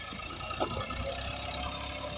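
A Massey Ferguson 260 tractor engine runs steadily, giving a continuous, even rumble with a dense broadband mechanical drone and no clear pauses or revving.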